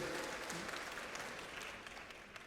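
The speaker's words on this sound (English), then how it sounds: "Let's give them a clap, the people who are joining for the first time today." An audience at a national stakeholders forum in Kakamega applauds, a dense, steady wash of many hands clapping that tapers slightly toward the end.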